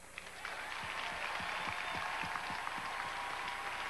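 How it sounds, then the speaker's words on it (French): Studio audience applause during a 1993 French-language telethon broadcast, a dense, fairly faint wash of clapping with some soft thumps underneath, steady throughout with no talk over it. "Je pense qu'il faut leur donner une bonne main d'applaudissement."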